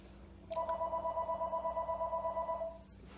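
A phone ringing: a steady electronic two-tone warble pulsing rhythmically for over two seconds, loud and close, with faint background hiss and no talking.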